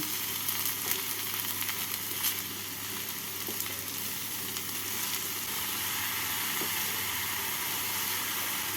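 Shredded cabbage and chopped carrots sizzle and crackle steadily in a hot pan as they are stir-fried, with faint scraping of the stirring spoon now and then and no voices.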